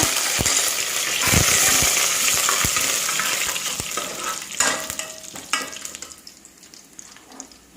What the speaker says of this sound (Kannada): ಈಗ ಇಷ್ಟು ಕಾದದ್ದು ಸಾಕು, ಬೆಳ್ಳುಳ್ಳಿ ಕೆಂಪಗೆ ಆಗಿದೆ. ಈಗ ಇದಕ್ಕೆ ಕರಿಬೇವು ಹಾಕುವ.